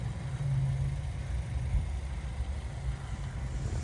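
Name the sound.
2024 Hyundai Elantra engine idling after start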